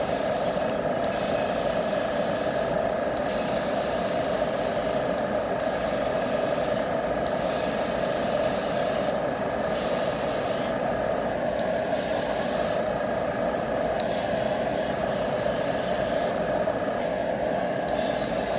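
A spray gun puts a second coat of paint on the hood of a 1956 Chevy Gasser, hissing loud and close in a long continuous stream broken by brief regular pauses between passes.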